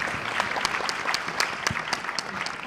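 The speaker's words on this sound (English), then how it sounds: "I want to give a big round of applause to the panelists" Audience at a corporate governance forum applauding the panelists, a steady patter of many hands clapping at moderate distance, with no voices over it.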